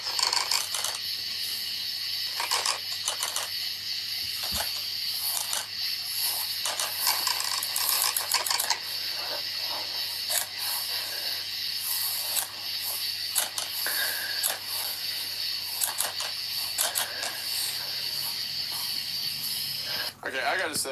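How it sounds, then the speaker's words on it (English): Alien creatures in a video game, shown as flashing lights, give off dense mechanical clicking and ratcheting with hissy texture, steady and fairly loud for the whole stretch, with a person talking faintly underneath. "I really like the aliens being depicted as flashing lights that make clicking noises."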